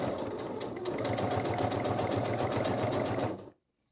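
A sewing machine fitted with a presser foot stitches a fabric hem in a steady, rapid mechanical whir that runs evenly, then stops abruptly into silence.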